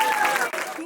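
Audience applause for Shilpa's dance to a Madhuri Dixit song at a Christmas and New Year program, a short burst of dense clapping from a crowd that fades toward the end.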